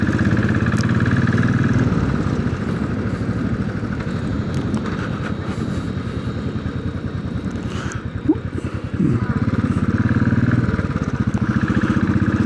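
Royal Enfield Classic 500 motorcycle being ridden through roadworks traffic, its single-cylinder engine thumping loud and close with steady pulsing exhaust beats that dip and swell with the throttle.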